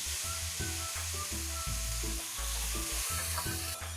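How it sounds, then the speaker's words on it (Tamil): Chopped onions with dried red chillies and curry leaves fry in hot oil for a chicken gravy, a steady close sizzle broken by repeated scraping stirs of the spoon through the pan. "நறுக்கி வச்சுருக்கிற வெங்காயத்தை போடுவோம்."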